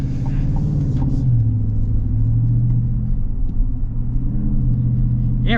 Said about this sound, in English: Having the exhaust be a little bit rowdier, it's fun.